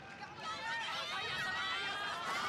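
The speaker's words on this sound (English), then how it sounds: "Wait, they're cheering for Cocolia?" Crowd cheering in a Honkai: Star Rail game scene, a steady dense roar of many voices, moderately loud and continuous, with no speech over it.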